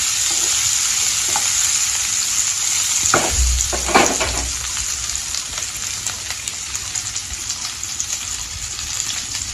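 Boiled small potatoes fry with salt and turmeric in a village kitchen pan, a loud continuous sizzle broken by a few heavier stirring scrapes and knocks early on, no speech.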